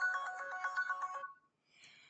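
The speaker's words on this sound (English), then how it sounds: "This phone is ringing off the hook today." A phone ringtone plays nearby, a short melodic electronic trill that repeats in quick pulses for about a second before stopping, followed by a faint tail of sound.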